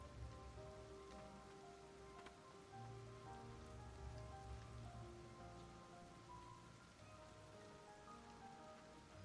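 Steady rain falls in the video game Ender Lilies, a dense, even patter on surfaces that holds at a constant level for the whole stretch, with no voices over it.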